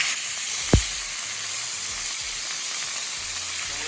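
Steady, bright sizzle of red snapper frying in a hot pan, constant crackling hiss with one brief clink near the start.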